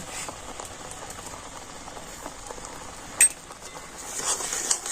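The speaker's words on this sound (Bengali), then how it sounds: "এখন আমি সুজিটা কিন্তু খুব ভালোভাবে নাড়াচাড়া করে নেব" A spoon stirs semolina with milk in a pan, a soft, continuous wet scraping with faint clinks, close and steady with one sharper knock partway through.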